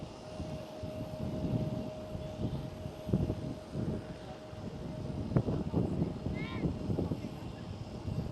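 A TUI Boeing 737 Max 8 at Schiphol airport gives off a steady, distant jet roar with wind buffeting the microphone, while people talk nearby throughout.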